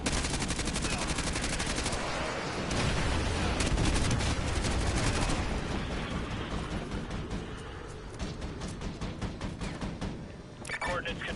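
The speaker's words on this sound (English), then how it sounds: "Call artillery on the enemy vehicles." Video game battlefield gunfire and artillery fire, loud sustained bursts of shots and heavy blasts, with radio-style voices talking over the noise.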